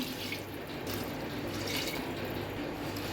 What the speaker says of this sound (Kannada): ಈಗ ನಾನು ಎರಡು ಲೋಟದಷ್ಟು ನೀರು ಹಾಕ್ತಿದ್ದೇನೆ